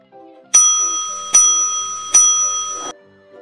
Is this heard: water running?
no